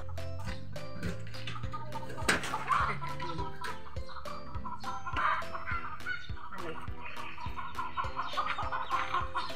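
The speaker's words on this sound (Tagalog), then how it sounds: "Manok." Chickens cluck and squawk intermittently nearby over a steady background of rhythmic tapping and outdoor noise, with no talking.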